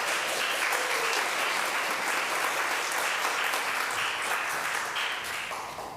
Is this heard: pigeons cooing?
no